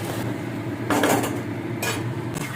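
Fish curry made with katla fish maw is stirred in a metal pot, with a spoon scraping and clanking against the sides in two short bursts over a low, steady cooking background.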